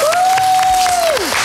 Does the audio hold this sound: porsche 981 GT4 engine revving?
no